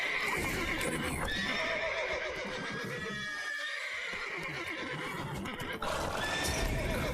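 Horses in The Witcher 3 whinny repeatedly and clop their hooves in a loud, steady game soundscape, with neighs rising over continuous hoofbeats and stable noise and a brief dip near the middle.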